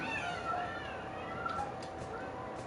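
A cat meows in a pizza commercial, several wavering meows sounding close over a steady background hum.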